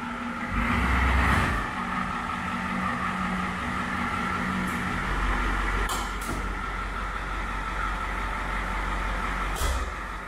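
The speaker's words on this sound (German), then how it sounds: "Dafür fährt das mit allen 4 Rädern auf einzelne Radwagen." A car at a German TÜV inspection rolls onto individual wheel scales, its engine running steadily at low revs, with a couple of soft knocks as the wheels settle.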